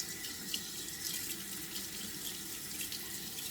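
Cold tap water runs steadily from a kitchen faucet onto an ENJO fibre cloth, a continuous close hiss and splash of flowing water at the sink with no voices.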